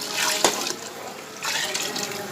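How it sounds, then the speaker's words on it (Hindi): Water splashes and pours into a cooking pot of frying lentils in a short burst, a steady running liquid sound that fades briefly then resumes, close by with no talking. "इसके अंदर अब हम पानी ऐड कर देंगे।"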